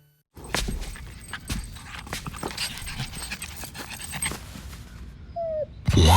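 A puppy pants close by in rapid, steady breaths, with faint clicks and shuffles and a brief whimper near the end, no talking.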